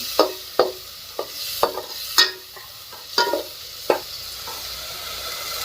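Tomato and a spiced tempering sizzle softly in a pan while a spoon stirs in distinct, spaced strokes, about one every half second to second, each a sharp scrape or clink over a quiet hiss, with no speech.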